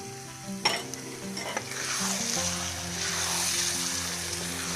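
Almonds are stirred into carrot halwa in a pan, giving a steady scraping, sizzling churn with a few sharper clinks early on, close and moderately loud with no talk.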